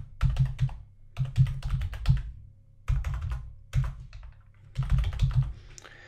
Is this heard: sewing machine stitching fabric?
no